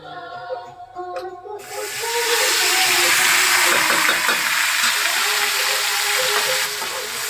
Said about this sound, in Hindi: और मटर डालूंगी और सूजी।